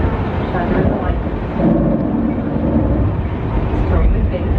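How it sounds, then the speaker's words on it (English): Low, rolling artificial thunder played from speakers at Universal Studios Hollywood rumbles continuously, swelling in the middle, with a broad wash of noise like rain and wind. "Thunder is coming out of speakers that are located to the sets all around the building."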